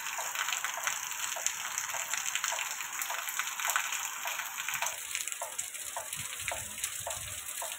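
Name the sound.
heavy rain falling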